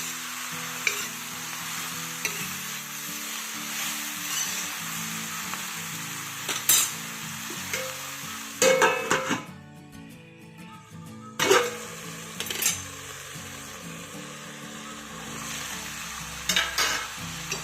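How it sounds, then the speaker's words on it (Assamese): Finely chopped ridge gourd fries in a pan over a high gas flame, giving a continuous loud sizzle broken by repeated scraping stirs of a utensil against the pan. "এয়া গেছটো হাই কৰি মই ভাজি আছোঁ।"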